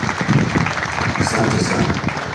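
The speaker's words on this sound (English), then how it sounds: "Please applaud the graduates, it's very important." Graduates receive audience applause at a university graduation ceremony: dense, loud clapping that stays steady through the short stretch, with voices mixed in.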